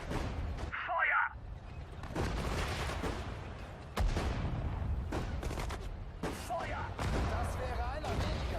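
Battle in the WWII strategy game Sudden Strike 4 crackles with bursts of gunfire, booms and explosions, continuous and dense, while voiced unit commands are spoken over the fighting.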